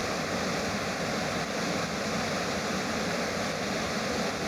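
McKenzie Falls, a waterfall, pours in a constant broadband roar of rushing water, steady and unbroken throughout, with no voices.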